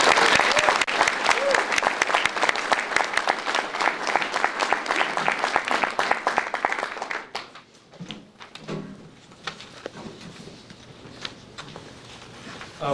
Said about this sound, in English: let's please give him a warm round of applause